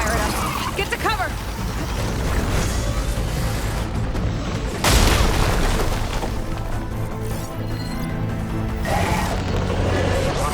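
An enemy machine fires and explodes in the video game Horizon Forbidden West: Burning Shores. One sharp boom punches through busy battle noise and a rumbling score, with voices talking over the action.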